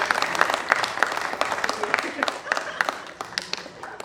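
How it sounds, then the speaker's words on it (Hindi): Audience applause at an open mic session, a modest crowd clapping in distinct, somewhat sparse claps that continue steadily throughout. "हाँ एक बार तालियां बजा दीजिए मधु शुक्ला जी के लिए।"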